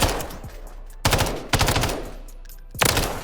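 Automatic MTZ rifle fire in Call of Duty: Modern Warfare III, sustained rapid bursts broken by brief pauses, loud and close with no talking.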